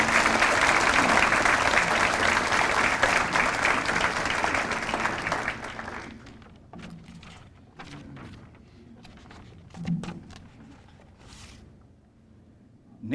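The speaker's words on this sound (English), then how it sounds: "Please join me in a big round of applause for our past honorees" A hall-of-distinction awards audience at ATU claps loudly and steadily for past honorees for about six seconds, then the applause fades into scattered claps, shuffling and faint room noise.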